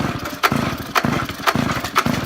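A small minibike engine revs on the throttle in four short, regular bursts, each a brief rising roar that drops back between pulses, loud and close.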